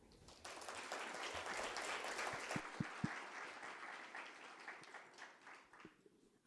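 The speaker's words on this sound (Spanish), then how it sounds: "podemos recibir con un fuerte aplauso a la doctora Ana Pornoy." An audience at a museum lecture welcomes a speaker with applause, a steady crowd of clapping rising and then fading, fairly quiet and distant, with a few sharper individual claps standing out.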